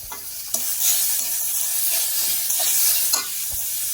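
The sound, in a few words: onion, carrot and chicken frying for stuffing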